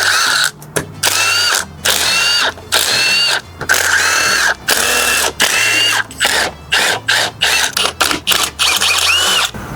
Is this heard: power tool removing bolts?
yes